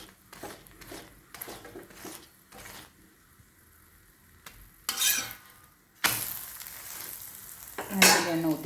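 An aloo paratha roasting on a pan over low heat gives a soft background sizzle, then bursts of louder sizzling and scraping as it is turned and pressed, close by.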